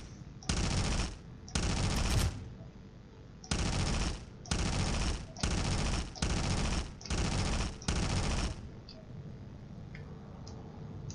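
Bursts of rapid automatic gunfire in the video game Space Engineers, seven sustained volleys about a second each separated by short pauses, loud against a quiet background.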